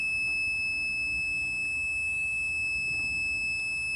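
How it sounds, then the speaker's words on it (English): A Green Mountain Grills pellet grill sounds its low pellet alarm, a steady high-pitched electronic tone holding for several seconds over faint background noise, with no voices. "I think my low pellet alarm is going off."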